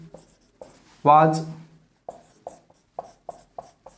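Chalk or a marker taps and scratches on a board in a quick run of short, sharp strokes during a chemistry lesson on molecular orbital theory, close and crisp, following a brief spoken word.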